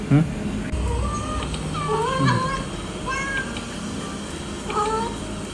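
A cat meows repeatedly in a Thai home, several short rising and falling cries spread across the clip, fairly close, over a low background hum.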